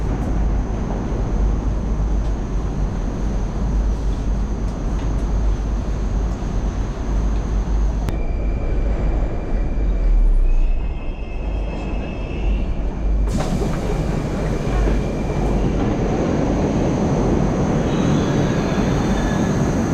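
A Moscow metro train at a station gives a loud, continuous rumble that shifts abruptly in character partway through, with high electric whines rising and fading. No one speaks.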